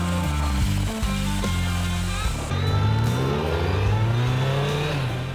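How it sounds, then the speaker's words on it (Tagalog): A smooth inline-four engine on a Kawasaki Z900 motorcycle revs up repeatedly, pitch rising and falling in sweeps, loud and close with no talking. "gumagamit siya ng typical Japanese na inline 4 engine"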